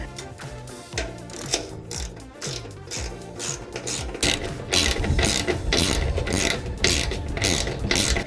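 A hand ratchet clicks rapidly in bursts as it drives bolts on Toyota Tacoma rock sliders, the metallic pawl rattling in quick repeated strokes, close and loud, with no talk.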